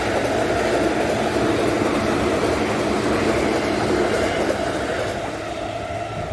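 A train rolls along railway tracks in Japan, a loud, steady rumble with wheel and rail noise that holds throughout and eases slightly near the end, heard up close from trackside.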